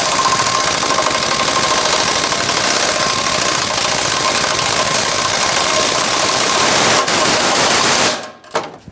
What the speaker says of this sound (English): I'm going to try an impact to hopefully speed up the process.